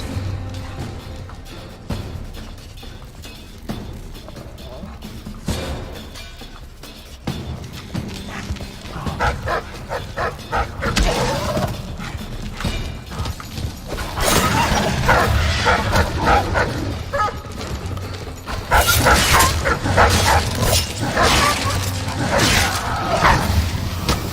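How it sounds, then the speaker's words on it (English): Dogs barking in the stealth video game Dishonored, repeated barks rising among dense game ambience and effects, growing louder and busier toward the end. "I didn't realise there were dogs out there."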